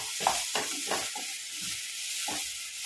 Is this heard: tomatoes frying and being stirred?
yes